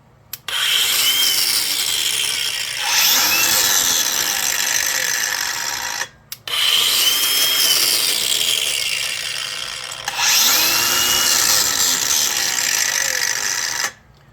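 Hercules angle grinder running free in a demo, loud high whine in three long bursts, each starting abruptly and cutting off sharply, with brief quiet gaps between runs.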